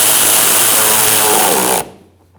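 A power tool tightens a bolt on a 2012-2018 Ford Focus 2.0L during serpentine belt work, giving a loud, close, continuous whir for nearly two seconds that stops abruptly, leaving quiet.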